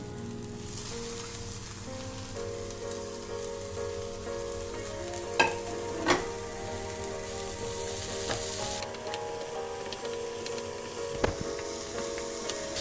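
Onion and capsicum are stirred and sautéed in a pan, a continuous close sizzle over a steady hum, punctuated by several sharp scraping clicks of the spatula against the pan.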